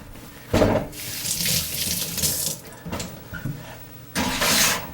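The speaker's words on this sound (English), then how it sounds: "I'm going to rinse my hands" Kitchen tap running as hands are rinsed beneath it, a steady splashing water stream that surges and drops in a few bursts, close by, with no one talking.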